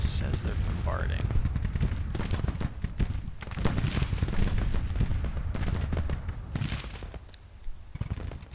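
Civil War video game battle with artillery bombardment and gunfire, a dense continuous rumble of overlapping booms and shots filling the whole stretch without a break.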